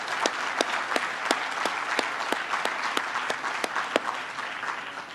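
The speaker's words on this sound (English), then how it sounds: "please join me in giving them a warm round of applause for everything they do." An audience at a Texas legislature discussion event applauds warmly, a dense, steady clapping from a large crowd that holds throughout with a few sharper individual claps standing out.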